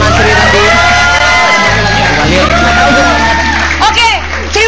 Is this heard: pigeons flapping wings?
no